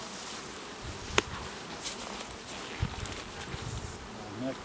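A steady, dense insect buzz of honey bees from an open hive fills the background, with a few brief clicks and knocks of handling frames nearby.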